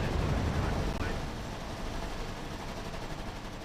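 Continuous distant gunfire and rumbling explosions from a battle in the video game RUSE, dense and unbroken, with faint voices underneath.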